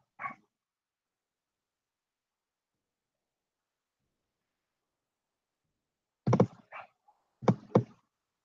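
A dog barks and whimpers indoors near an open door: one short yelp at the start, a long silence, then a close cluster of sharp barks and whines near the end.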